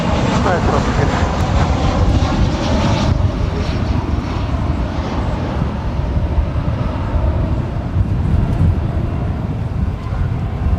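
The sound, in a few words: American Airlines Airbus A319 jet taxiing at DFW Airport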